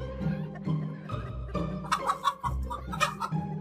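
Cartoon chickens cluck repeatedly and close by, in short, choppy bursts with a few higher squawks.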